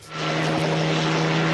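A helicopter in a scene from the film Predator, its engine and rotors a steady, loud, close drone that swells in within the first moment and holds unbroken, with no voices.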